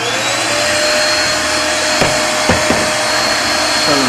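A CNC router spindle runs at high speed with a constant whine and drone, interrupted by a couple of short clunks partway through.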